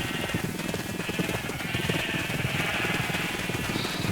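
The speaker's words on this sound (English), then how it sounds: "I will just breed some of these sheep" Minecraft sheep bleat loudly and repeatedly while being bred with wheat, overlapping bleats crowding a steady game background.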